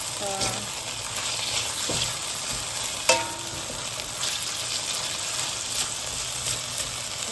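Shredded pork stir-frying in a pan on high heat, a loud continuous sizzle broken by scraping stirs and a sharp clank near the middle.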